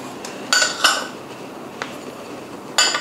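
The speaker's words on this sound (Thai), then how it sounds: "คนนิดหน่อยนะคะให้ส่วนผสมของของแห้งพอเข้ากันค่ะ" A spoon stirring dry cookie ingredients of flour, salt, baking soda and baking powder in a bowl, giving a few sharp clinks against the bowl over a soft scraping bed, with no talking.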